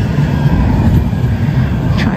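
Inside a moving tram in Sheffield, a steady low rumble of wheels and motor fills the carriage, loud and continuous, with a brief higher squeal near the end and no clear speech.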